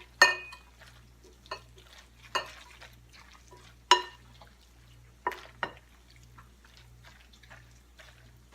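Pasta tossed with carbonara sauce in a pan, alongside asparagus, heard as a few soft, wet clatters and stirring scrapes at irregular intervals over a low steady hum, fairly quiet and close.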